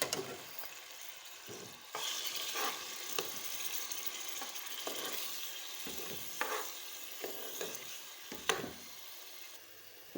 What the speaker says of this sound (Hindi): ये हमने चिकन को हल्का सा फ्राई कर लिया